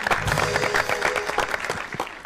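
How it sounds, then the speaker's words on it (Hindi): Studio audience applause on a comedy talk show, loud and close, with dense clapping and a band playing a brief tonal phrase underneath, lasting a couple of seconds. "इसी बात पे अपने लिए तालियां"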